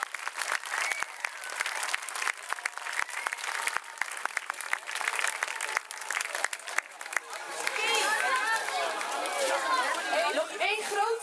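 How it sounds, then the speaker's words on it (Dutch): An audience at a school's Lion King musical gives sustained, loud applause for the helpers, dense clapping with crowd chatter mixed in. The clapping swells and turns rougher toward the end. "Mag ik daar een extra groot applaus voor?"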